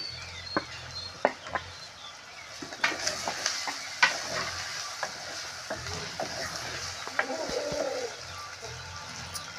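Tomatoes going into a pan of softened onions for kandha pulusu, with a steady close sizzle and frying hiss, plus intermittent stirring clatter and scrapes against the pan.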